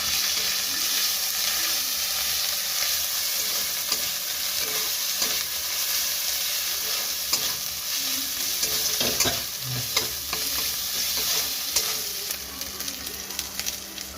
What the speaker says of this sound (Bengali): আদা রসুন কাঁচা লঙ্কা বাটা